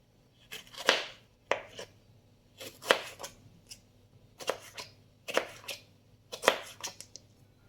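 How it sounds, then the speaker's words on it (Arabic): A kitchen knife chops onion and bell pepper on a cutting board in a series of sharp, close strikes that come in clustered bursts with short pauses between them. Nobody speaks. "هلا بعد ما خلصنا تقطيع البصل والفليفله"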